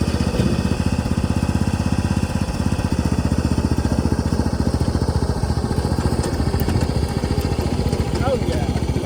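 An old tractor engine runs steadily after a jump start from a small booster pack, its loud, rapid chugging firing pulses continuing throughout at close range with no one speaking.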